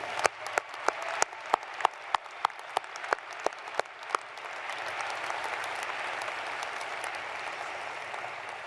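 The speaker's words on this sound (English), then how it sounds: "Let's give them a round of applause" Commencement audience applauds honorary degree recipients at Utah Valley University: a handful of sharp separate claps at first, then a dense, steady wash of crowd clapping filling the hall at moderate distance.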